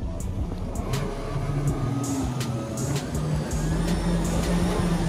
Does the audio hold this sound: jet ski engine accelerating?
yes